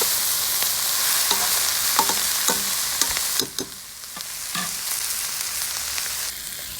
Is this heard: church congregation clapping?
no